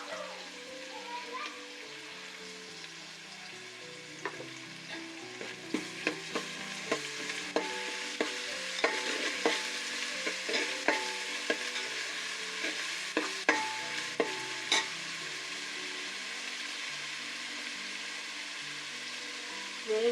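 Ginger garlic paste fries in a pan for chicken biryani, a steady close sizzle broken by repeated scraping and clinking strokes of a spoon that crowd together in the middle stretch and thin out toward the end.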